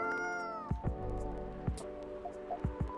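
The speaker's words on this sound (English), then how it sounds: "Cats." A small stray cat, collarless and friendly, gives several short close meows in a quiet spot, spaced irregularly, with a faint tonal hum running behind them.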